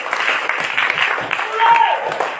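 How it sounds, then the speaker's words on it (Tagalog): A church congregation applauds at a preaching service, with dense, steady clapping from a large group heard close and loud throughout. "Magkusog ka palakpak para sa Ginoo."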